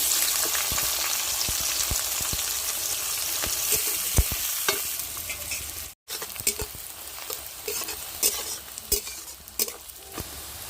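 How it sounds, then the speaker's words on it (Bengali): Chopped onion fries in hot oil for a jackfruit and prawn curry, a steady close sizzle broken by frequent clinks and scrapes of stirring, with a brief cut-out midway. "পেঁয়াজটা লাল লাল করে ভেজে নিয়েছি"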